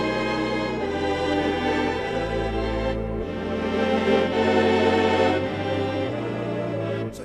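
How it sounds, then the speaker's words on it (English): Yamaha Tyros 5 keyboard set to a theater organ voice plays full sustained chords with a thick, vibrato-rich pipe-organ tone, steady and loud throughout without any talking. "This is theater organ."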